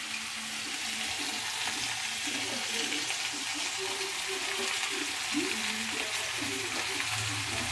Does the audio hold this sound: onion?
yes